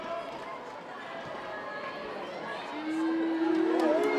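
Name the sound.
netball crowd cheering and shouting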